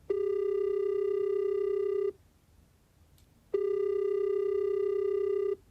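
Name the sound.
telephone ringing tone of an unanswered call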